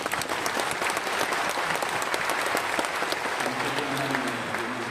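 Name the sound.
audience applause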